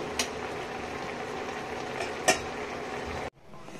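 Fish curry with teasel gourd simmers in a pan, a steady close bubbling hiss with a couple of light utensil clinks, which cuts off abruptly near the end.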